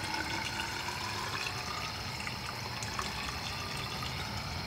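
Coolant pours steadily into a car radiator on a DIY rear-mount setup, a continuous close gurgling and splashing of liquid with no pauses and no talking.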